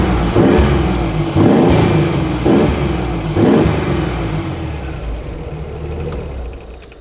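A 1936 Alvis Silver Eagle's supercharged 4.3-litre inline six-cylinder engine revs repeatedly in four rising bursts, loud and close, then winds down toward quiet.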